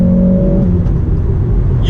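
A Ford Focus RS engine pulls under building turbo boost, giving a steady, loud, smooth drone. The note rises gently over about two seconds with no interruption.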